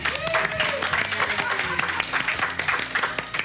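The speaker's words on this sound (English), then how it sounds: "Let's have a round of applause for the groom." Guests clap for the groom at a wedding-style game show event, a short burst of applause mixed with cheering voices and some talk underneath.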